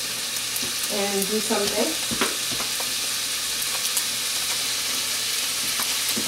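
Crab cakes fry in a pan with a steady sizzle underneath, and a few clinks and a voice briefly speaking over it.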